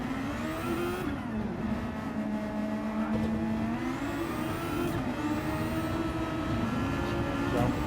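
Race car engine in a video game drones steadily with shifting pitch as the car pulls out of the pits, a continuous close, even roar with no speech.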